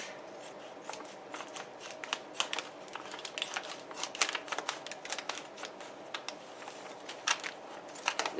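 Scissors or a blade cut through a plastic bag of Back to Roots Indoor Organic Potting Mix, giving a quiet string of crinkly snips and rustles close by, with no talk.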